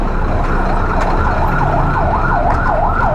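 A loud, close ambulance siren wails in a steady repeating up-down pattern on a Commonwealth Avenue road, with traffic rumble beneath and no talk.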